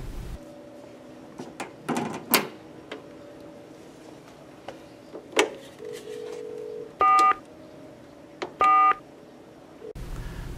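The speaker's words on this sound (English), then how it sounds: "Or place a call to the last phone that called out." Two short bursts of telephone redial tones from a RATH Command Center base station, each a steady beeping chord, set among scattered button clicks and clunks against a quiet background hum.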